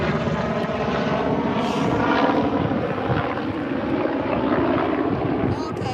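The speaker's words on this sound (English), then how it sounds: "Helicopter. Helicopter." A helicopter flies over a beach, its rotor and engine a steady, broad roar that stays loud for the whole stretch.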